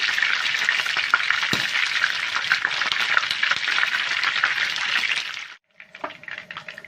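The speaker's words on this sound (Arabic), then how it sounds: "انزل بالبصله بتاعتي واقلبها بسرعه عشان الطاسه طبعا عندي سخنه جدا" Onion frying in a very hot pan while chicken kabsa is being cooked, a steady loud sizzle with scraping stirring, close up, breaking off abruptly near the end into a few quieter clinks.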